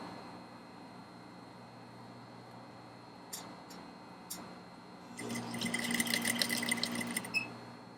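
An industrial sewing machine stitches a corset seam. A couple of sharp clicks come first over a quiet room hum, then a loud, fast mechanical whir runs close for about two seconds before stopping.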